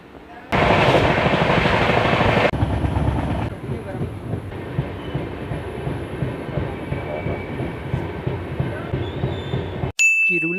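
A Humsafar Express train running on the rails, heard from on board as a loud rumble and clatter that eases into a quieter rhythmic rolling, with a sharp click near the end.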